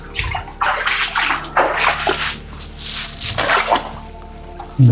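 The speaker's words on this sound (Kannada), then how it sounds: "ಇಲ್ಲಿ ನೋಡ್ರಿ ಫುಲ್ ನೀರು ತುಂಬ್ಕೊಂಡೈತೆ ಕೇವ್ ಒಳಗೆ." Water inside a cave, heard as loud splashing and sloshing surges that come in repeated bursts, close by and echoing, with no talking.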